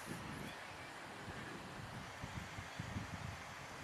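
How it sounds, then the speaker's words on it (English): Gusting wind blows across an open outdoor field during a Nightcliff Tigers versus Darwin Buffaloes NTFL men's Australian football match, a steady broadband rush with low buffeting bumps from the microphone, no talk. "The breeze is gusting, still gusting with us"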